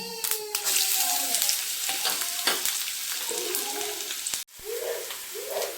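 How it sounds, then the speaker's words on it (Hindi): Onion and cumin sizzle steadily in hot oil in a pan, a continuous close crackle with scrapes of stirring and a brief dropout before the frying resumes. "प्याज और जीरा मैं इसमें डाल दूँ, जीरा डाल दूँ पहले, इसी में प्याज डाल दूँ।"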